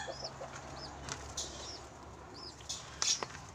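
A pigeon beats its wings in a few short, faint flutters, with soft chirps in a quiet setting and no talking.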